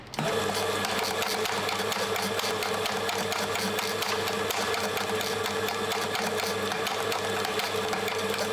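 Coffee beans being ground in a coffee grinder: a loud, steady motorized whir with a strong even hum starts abruptly and holds constant for the whole stretch, with no voices.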